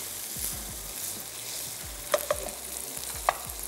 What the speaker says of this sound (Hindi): चलिए अब हम इसमें ऐड कर देते हैं ये रेड बीन्स थोड़ा सा इनको फ्राई होने देते हैं